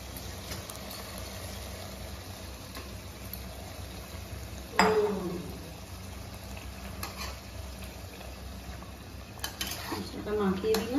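Half-boiled chicken pieces being mixed into a pot for biryani: low, steady sizzling under a sharp scrape of a utensil against the pot near the middle, with more stirring clatter at the end.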